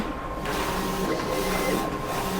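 A DTF transfer printer runs its cleaning cycle, giving a steady mechanical whir and hum with faint internal clicks, close and continuous, with no voices.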